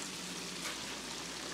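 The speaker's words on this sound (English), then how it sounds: "And if you deep frying, you really don't have to flip them." Panko-breaded shrimp deep fry in hot oil, a dense, steady sizzling hiss heard close up without pause.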